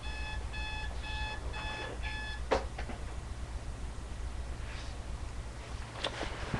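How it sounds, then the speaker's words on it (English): An alarm clock rings in rapid repeating bursts of electronic beeps for about two seconds, then stops, leaving a quiet room with faint background hiss. "let me think about that a moment while I turn off my friend's alarm"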